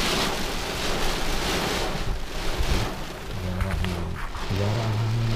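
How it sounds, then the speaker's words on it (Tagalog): Strong wind blows at a port, a loud, continuous rushing roar buffeting the microphone, while people talk underneath toward the end. "Lakas ang hangin."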